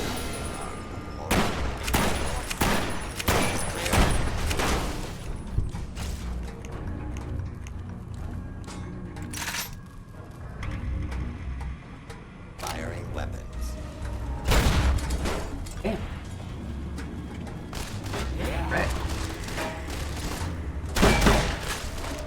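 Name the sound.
gunfire in Fallout: New Vegas video game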